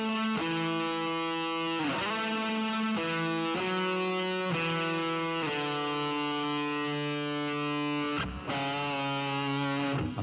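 Heavily distorted electric guitar, distortion added through plugins, plays sustained, buzzing chords that shift every second or so, thick and saturated, with no voices.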